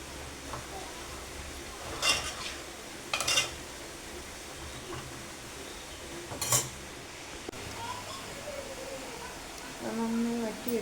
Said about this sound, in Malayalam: അതുവരെ നമുക്ക് നന്നായി ഇളക്കി കൊടുക്കാം